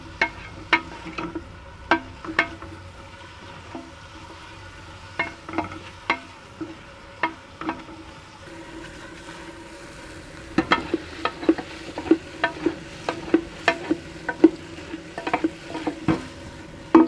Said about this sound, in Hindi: पहले प्याज को अच्छी तरह से फ्राई करेंगे।